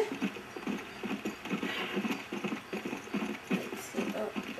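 Horse hooves clip-clop at a steady galloping rhythm in the video game Red Dead Redemption, rapid repeated thuds over a faint background bed.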